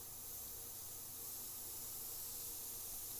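Spray paint hisses steadily onto a Harley motorcycle frame, a quiet, even rush of air with no breaks.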